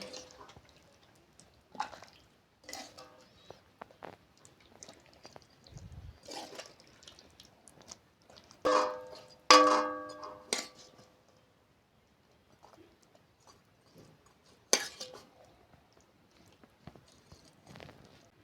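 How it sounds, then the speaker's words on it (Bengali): Vegetarian chickpea ghugni with green chilli being served onto a plate: quiet wet spoon scrapes and soft clinks in irregular bursts, with a louder cluster of clattering taps midway and near-silent pauses between. "এবার আমি প্লেটে তুলে নেবো"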